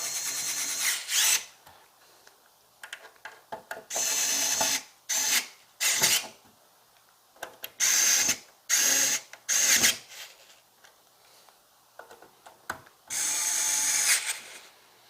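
A power driver runs screws in to mount a panel on a computer power supply, sounding as repeated short whirring bursts of varying length, close and loud, separated by quiet gaps.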